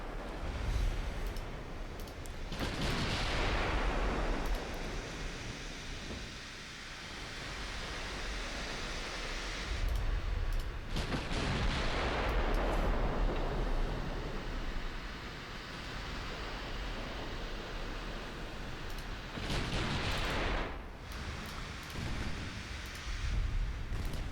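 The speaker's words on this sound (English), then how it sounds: "shooting at the light cruiser" Naval gunfire at a light cruiser in a Dreadnought Improvement Project warship game: three separate heavy cannon blasts, each a broad roaring boom that decays slowly over several seconds, set against a steady low rumble.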